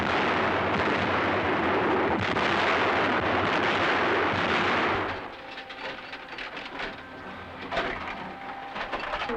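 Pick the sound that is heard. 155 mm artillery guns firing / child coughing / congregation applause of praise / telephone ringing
155 mm artillery guns firing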